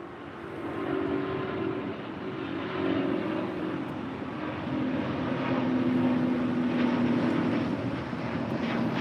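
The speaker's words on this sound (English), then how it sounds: "ETA now rolling down 25 rights" An Etihad heavy Airbus rolling down runway 25 right at LAX for takeoff gives a building engine roar with a droning tone that slowly grows louder across the run.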